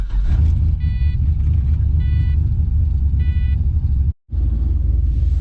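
A Pontiac GTO with a turbo and a new oversized radiator idles steadily up close, a deep continuous rumble carrying light mechanical whine, interrupted briefly by a short silent gap.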